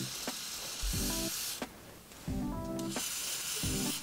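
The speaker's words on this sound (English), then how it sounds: "take the Gatsby glue. We're gonna spray" Gatsby glue sprayed from an aerosol can onto the edges of a laid-down wig, giving steady hissing bursts close by with short breaks between sprays.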